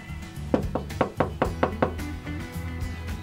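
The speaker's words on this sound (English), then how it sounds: "I'm going to knock on the door" Knuckles rap on a front door in a quick series of about seven firm knocks, close and distinct over faint background hum.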